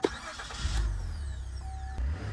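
A flood-damaged Cadillac CTS engine cranks and catches, settling into a low steady rumble close by, with a brief thump near the end.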